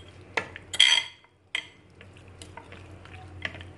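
Chili sauce, soy sauce and vinegar stirred together in a bowl, with a few scraping clinks of a utensil against the bowl, close and fairly quiet, separated by brief pauses.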